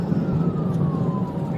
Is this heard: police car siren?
yes